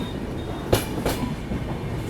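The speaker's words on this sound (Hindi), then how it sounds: "अपनी ट्रेन को लूप पे डाला जा रहा है" Passenger train switching onto a loop line ahead of a station, heard from inside as a steady rolling rumble with two sharp clacks of wheels crossing points, moderately loud and close, with no voices.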